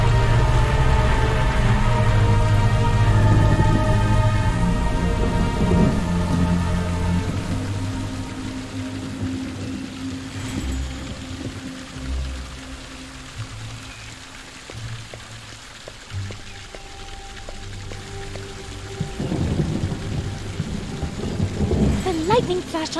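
A thunderstorm in the video game The Perils of Man, with loud rolling thunder and steady rain up front that eases into softer rainfall and distant rumbles, then a renewed crack of thunder near the end.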